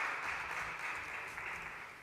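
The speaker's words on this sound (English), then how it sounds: "Big round of applause for them, please." Audience at an international forum on digital transformation applauding the speakers, a soft, even wash of clapping that holds steady, somewhat distant and quiet.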